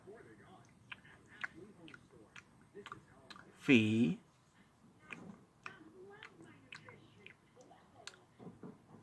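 A voice mimics a woman's gum chewing with a brief, loud burst of wet smacking and clicking mouth noises, standing out for under a second amid quieter background talk from a wrestling show.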